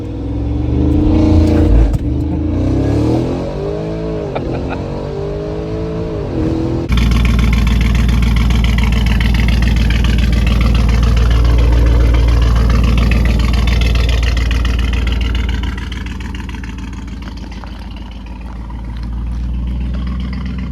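A 2020 Audi SQ7 engine revs hard while building boost, first with rising and falling sweeps, then a loud, sustained deep roar that eases off toward the end, with no talking.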